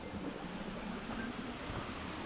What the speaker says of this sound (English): You can see there's some smaller little cascades and falls here as we go up